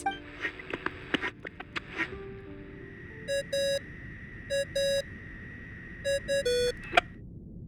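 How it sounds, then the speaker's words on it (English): A phone's electronic ringing tone in Genshin Impact repeats as short clustered bursts of bright beeps, with a few earlier sharp ticks and tones before the ringing pattern settles in. "I really hate that ringing tone."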